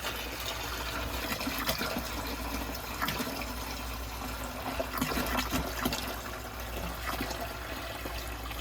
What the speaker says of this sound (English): Fill your bucket with vinegar until it gets approximately halfway up your pump.